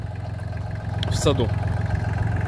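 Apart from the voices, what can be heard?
Solis 26 tractor engine running during loading for shipment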